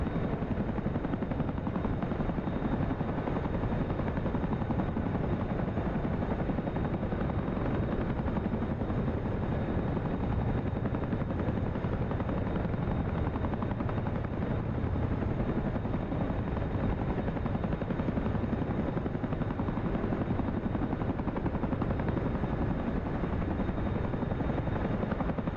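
SA342 Gazelle helicopter in DCS World flying over Iraq, a steady, loud rotor and turbine drone that holds constant and dense for the whole stretch, with no voices over it.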